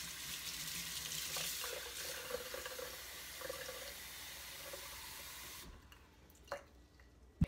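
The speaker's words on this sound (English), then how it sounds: "I'm going to let the water run for a minute and fill the vase up here." Tap water runs steadily into a vase with a broad rushing hiss, then cuts off near the end, leaving a few faint clinks and drips.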